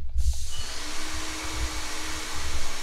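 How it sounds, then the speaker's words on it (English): A steady, loud mechanical whoosh of a spray machine spraying first-floor ceilings indoors, broadband hiss with low rumble throughout. "doing some spraying of the first floor ceilings for the customer"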